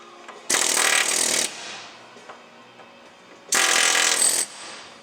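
An impact tool hammers on a Nissan 350z differential bushing in two loud, rapid, buzzing bursts of about a second each, separated by a quieter pause, up close.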